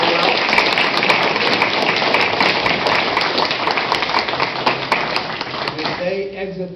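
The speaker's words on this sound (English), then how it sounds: "I think we all ought a round of applause for our five candidates." An audience at a city council candidates' debate applauds steadily, a dense wash of many hands clapping for several seconds before fading as a voice starts speaking.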